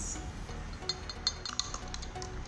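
A spoon stirs cinnamon and honey into a ginger drink in a glass, making several light, quick clinks against the glass over a soft background hiss, with no talking.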